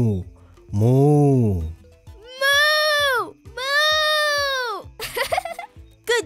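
A young child imitates farm animal sounds from a picture book, giving several long, drawn-out bleating and mooing calls in turn, with a few short vocal bursts at the end.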